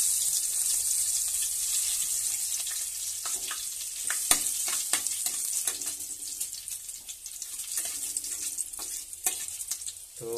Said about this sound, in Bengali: তো তেজপাতা, শুকনো লঙ্কা ফোড়ন দিয়ে দেবো।